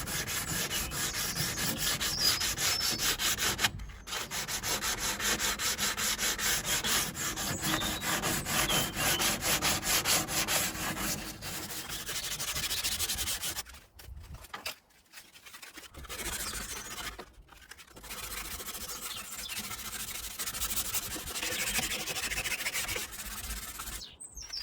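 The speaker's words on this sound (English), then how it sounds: "use a bit of sandpaper just to get all those edges that you can't get with the actual" Hand sanding an old wooden sideboard with sandpaper: steady, rhythmic back-and-forth rasping strokes close up, briefly pausing twice before resuming, with faint birdsong in the background.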